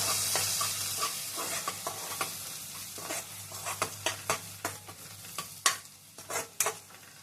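Green chillies and fresh ginger-garlic paste fry in a pan under a soft sizzle, punctuated by a run of sharp spoon scrapes and knocks as the mixture is stirred, growing livelier toward the end.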